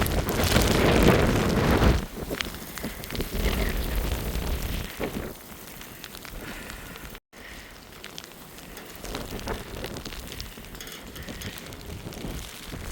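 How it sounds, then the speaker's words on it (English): Strong wind in a Canadian snowstorm, blowing snowflakes, roars and buffets a close microphone, loudest in the first two seconds and then easing to a steady, gusty rush. "The wind is so fast and it's bringing snowflakes"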